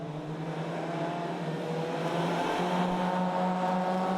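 Rallycross cars race at Lydden Hill in a round of the 2019 British Rallycross Championship, their engines making a continuous, fairly distant droning roar that shifts pitch partway through as the cars brake and accelerate.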